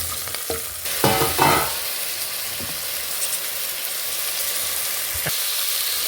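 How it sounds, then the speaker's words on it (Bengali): Turmeric, radhuni spice and chili powder sizzle in a hot pan as they are stirred, with a few sharp spatula knocks and scrapes early on, then a steady close frying hiss, no speech. "এখন এটাকে সুন্দর করে নাড়াচাড়া করে নিলাম"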